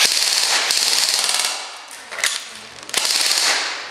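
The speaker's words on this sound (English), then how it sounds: "listen to the rate of fire. It's shooting around 20 BBs a second" Full-auto bursts from an Airsoft GI Desert Assault RRW airsoft rifle with a PWS buffer tube fire about 20 BBs a second. Two close, loud, rapid rattling strings are split by a short pause and a few mechanical clicks.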